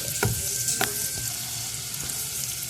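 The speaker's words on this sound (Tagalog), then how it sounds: "igisa lang natin yung bawang sibuyas na mag golden brown siya or maluto lang siya ng konti" Garlic and onion sauté in butter in a pan, giving a close, steady sizzle with a couple of brief spatula scrapes near the start.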